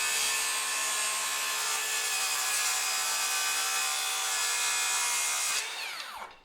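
Battery circular saw cutting through MDF, giving a loud, steady, bright whine throughout that ends as the blade leaves the board and winds down.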